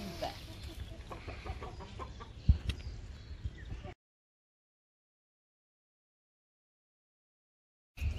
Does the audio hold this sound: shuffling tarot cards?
no